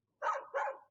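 A dog at a village home gives two quick, clear barks in close succession, fairly faint, with nothing else around them.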